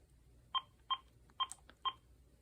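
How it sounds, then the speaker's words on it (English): A VTech 5831 5.8GHz cordless phone handset gives four short, evenly spaced electronic beeps with faint clicks between them, quiet and close in an otherwise still room. "The low battery tone has a nasty habit of waking me up late at night."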